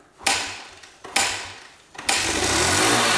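An 80s Honda dirt bike is kicked over twice with short sputtering bursts that die away, then catches on the third kick and keeps running with a loud, steady engine drone.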